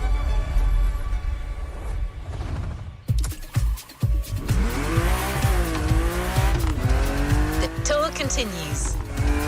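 Mercedes-AMG One racing in The Crew Motorfest game: a loud engine roar with screeching tire squeals and skidding, pitch rising and falling through gear changes, with a brief drop near the start.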